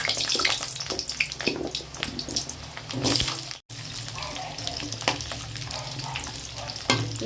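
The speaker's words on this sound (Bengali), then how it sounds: "এবার আলুগুলো একটু ভেজে নেব।" Potatoes frying in hot mustard oil in a pan, a steady loud sizzle with frequent stirring scrapes throughout, one brief break midway, no talk.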